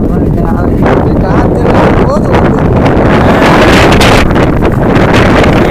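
Strong wind gusting across a hilltop at Kondarangi hill, a loud, continuous roar buffeting the microphone throughout, with a voice talking under the wind noise.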